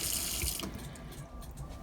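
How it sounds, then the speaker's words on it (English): Water runs from a tap in a Bailey Unicorn 4 caravan, fed by the onboard internal tank: a steady, close splashing gush into the sink that softens slightly partway through and keeps flowing. "I can turn the tap on, and we've got water coming from the internal tank"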